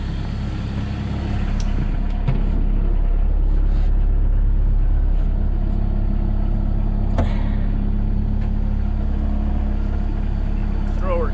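A Sherp amphibious vehicle sits warming up on frozen Lake Winnebago, its engine running as a steady, loud, close drone with a constant low rumble throughout, and a few faint clicks over it.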